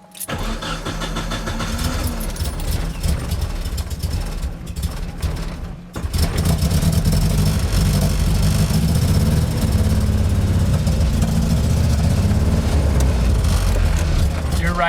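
A drift car's engine cranks and fires up on its first startup, then settles into a loud, steady idle close by, with people talking over it.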